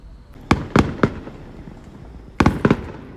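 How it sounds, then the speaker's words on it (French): Fireworks bursting over Valencia during a festival night, heard from a campervan table: two clusters of sharp loud booms, three in quick succession, a pause, then another rapid group of three, with no talking. "petite soirée avec le camping-car et bien sûr les feux d'artifice à Valencia"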